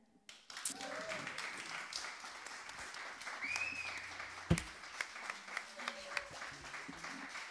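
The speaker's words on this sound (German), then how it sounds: "besten Dank für Klatschen und Mitsingen" Audience applause after a song at a Deichgranaten performance, a steady wash of clapping from a mid-sized crowd with scattered sharper claps and voices speaking over it.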